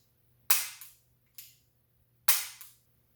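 A handgun dry-fired with no round chambered gives four crisp metallic clicks, close and distinct, spaced unevenly with silence between them.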